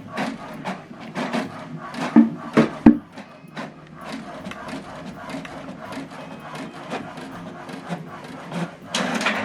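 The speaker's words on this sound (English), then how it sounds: "it's printing out from this printer" An HP Deskjet 2620 inkjet printer runs through a page with repeated mechanical passes and rasping clicks, steady and close, with a couple of louder knocks partway through.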